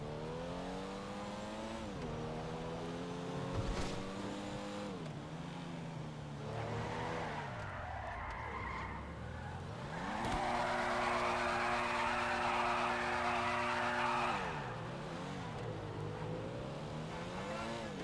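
A Dinka Kanjo SJ on a GTA Online test drive: the engine climbs and drops through gear changes, then the tires squeal in a sustained skid for a few seconds, followed by renewed revving, all fairly close and with no voices.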